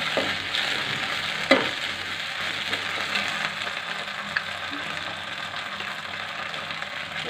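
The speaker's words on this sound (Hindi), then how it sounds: "लहसुन डाल रहे हैं," Garlic fries in a pan for veg manchurian, giving a steady soft sizzle with a couple of sharp clicks from stirring, fairly quiet and close.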